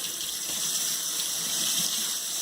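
Cold water runs from a kitchen faucet through a GE GX1S01R under-sink water filter, a steady hissing stream with no pauses, close and alone.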